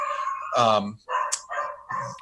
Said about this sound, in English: Is that the dog?